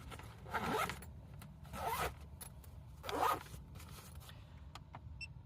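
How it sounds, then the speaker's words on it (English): Zipper pulled closed in three or four quick strokes, close and crisp, in a minivan camper in the Quartzsite desert, with short pauses between pulls and a few small clicks. "Then I will zip it up."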